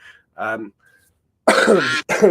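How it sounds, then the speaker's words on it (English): A single person gives a couple of short, rough coughs close to the mic, preceded by a brief throaty sound. "Excuse me if I cough"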